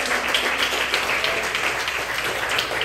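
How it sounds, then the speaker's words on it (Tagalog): A church congregation claps together in praise of the Lord, a dense, steady wash of many hands applauding at once, fairly loud and filling the room, without any distinct voice over it. "Lahat tayo muna pumalakpak sa ating mahal na Panginoon."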